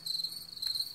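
Crickets chirp in a steady, high, continuous trill at night outside a camping tent, fairly quiet and even, with a faint brief swell near the end.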